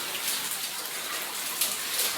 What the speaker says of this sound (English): it's pissing rain down there